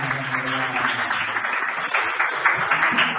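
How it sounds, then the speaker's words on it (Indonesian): Audience in a classroom lesson claps warmly for a student's answer, a steady, dense wash of many hands applauding throughout without a clear pause. "Tepuk tangan yang meriah"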